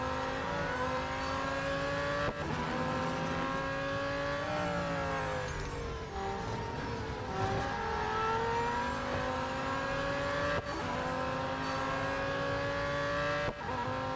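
McLaren Solus GT racing in the Real Racing 3 game, a steady loud engine drone rising and falling in pitch through gear changes, continuous and close with no talk.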